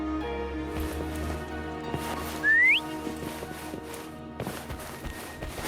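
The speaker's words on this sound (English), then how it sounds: "Try whistling." A character in the game Wuthering Waves gives one short rising whistle over soft in-game ambience and footstep-like taps.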